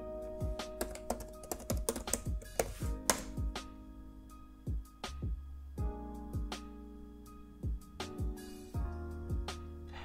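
Rapid keystrokes on a computer keyboard as a sudo install command is typed into a terminal, with irregular bursts of close, crisp clicks and brief pauses between words.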